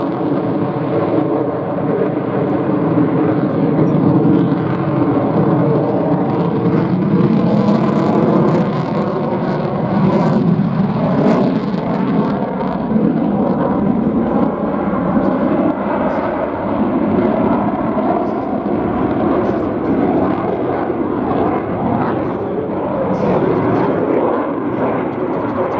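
An F-15 jet flies a display at an airshow, a loud, sustained roar of engine noise that swells and lingers throughout, heard from the crowd line.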